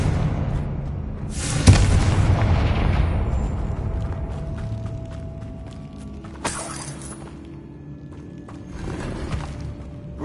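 Confringo spell explosions in the video game Hogwarts Legacy: a loud burst with a shattering crash and rumbling decay, then a second sharp blast and a softer later rumble, over faint ambient tones, with no talk.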